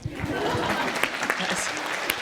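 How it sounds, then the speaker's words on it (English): An audience claps at a law school event with Justice Stephen Breyer, a dense and steady burst of applause throughout, with light voices underneath. "Please applaud them."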